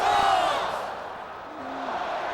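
Stadium crowd noise at a Georgia home college football game at Sanford Stadium, a broad roar with shouting that swells early, dips and builds again, filling the whole short stretch.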